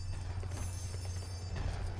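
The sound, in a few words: horse hooves clip-clopping in the video game Lego Worlds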